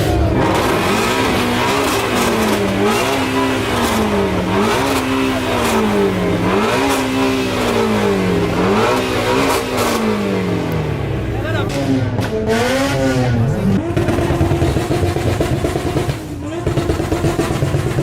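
Ford Mustang V8 on a new exhaust setup revs repeatedly up and down in a rhythmic wave, loud and close, with sharper blips near the end and a brief drop before the engine roars again.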